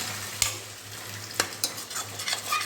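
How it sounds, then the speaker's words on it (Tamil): Ground tomato sautéing in a pan for a hotel-style vegetable kurma, with a steady soft sizzle broken by a few sharp scrapes and clinks of a spoon stirring against the pan, close and alone. "இப்போ இந்த தக்காளியை நல்லா வதக்கி விடணும்"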